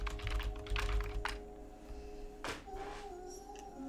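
Keys clatter on a computer keyboard in quick, uneven bursts close by, then a steady electronic tone hums beneath fainter taps.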